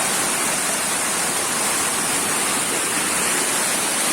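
A jungle waterfall under a dense canopy roars as a steady, loud, unbroken rush of falling water with no other sounds.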